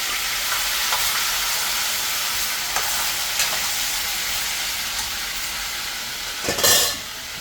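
Food dropped into a hot pot while cooking cow foot and beans or brown stew chicken, giving a steady broadband sizzle and hiss throughout, with a louder burst of frying near the end.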